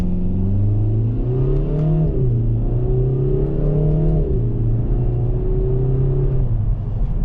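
A 2024 Kia Forte GT engine revs repeatedly, its pitch rising and settling in a steady, loud drone with no voices.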